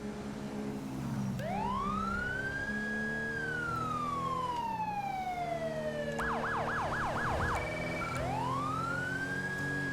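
A police car siren in GTA 5 during a code 3 emergency response: a loud, steady wail rises and falls, then breaks into a fast yelp pattern before the wail returns, continuous over engine noise.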